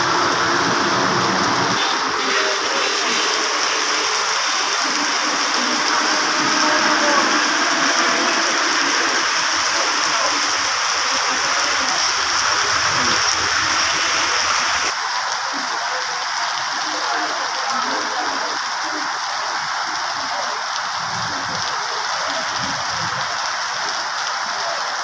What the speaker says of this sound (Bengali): এমন পরিমাণে বৃষ্টি, রাস্তাঘাটে কোনো লোকজন নাই